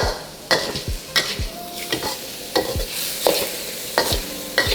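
Sliced garlic stir-fries in a pan, a sizzling bed broken by about seven rhythmic scraping strokes of a spatula against the metal, close and clear, with no talking.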